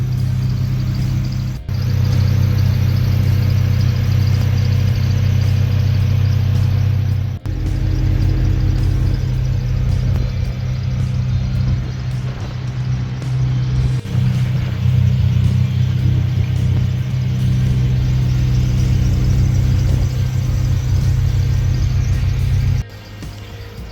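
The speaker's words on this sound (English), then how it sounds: "Two cars are running and ready to go to the meet." Two engines, a Honda Civic and a Mini, idle and rumble steadily close by, with brief revs and dips and no talking.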